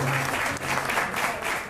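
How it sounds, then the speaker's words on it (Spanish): Applause from an audience at a community celebration for a group called Amigos con Power, a steady dense wash of clapping that stays loud throughout. "un aplauso para todos los soñadores de Amigos con Power"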